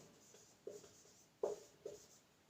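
Pen strokes scratch on paper during a Sanskrit lesson, three short faint bursts of writing spaced irregularly with quiet pauses between them.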